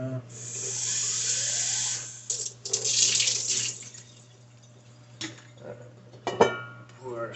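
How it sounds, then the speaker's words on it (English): Tap water runs steadily into a sink for a couple of seconds while a winemaking vessel is quickly rinsed, then stops and gives way to scattered splashes, clinks and handling noises nearby. "I'll give this a quick rinse."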